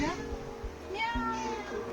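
A cat left alone for two nights meows repeatedly in drawn-out, plaintive calls, fairly close, with soft background noise and a few thumps.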